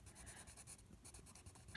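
A pencil or marker scratches steadily across paper, coloring in most of the sheet for an art piece, with a close, soft, continuous rasp and small rhythmic strokes.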